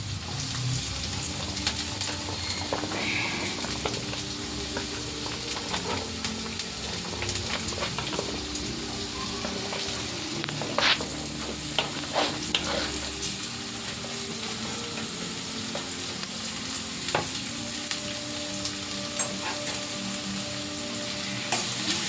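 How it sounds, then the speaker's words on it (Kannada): Chopped onions and green chillies fry in hot oil in a pan, making a steady close sizzle throughout with occasional louder crackles and pops, no voices. "ಎಣ್ಣೆ ಕಾದೈತೆ, ಇದು ಹಾಕ್ತೀನಿ. ಈರುಳ್ಳಿ ಮೆಣಸಿನ್ಕಾಯಿ ಹಾಕ್ತಾಯಿದ್ದೀನಿ."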